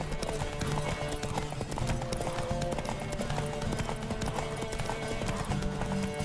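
Horse galloping in The Witcher 3, a fast, steady rhythm of hoofbeats with game music and ambience underneath, moderately loud throughout.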